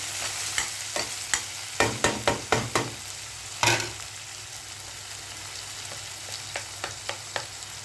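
Onion frying in oil for upma while being stirred: a bed of sizzle under a run of quick, regular spoon scrapes and knocks against the pan, a pause, then lighter strokes.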